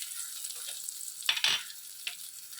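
Garlic, dried red chillies and coriander seeds roasting in a pan, a soft sizzle with a few brief scraping stirs, quiet and close, with no voices.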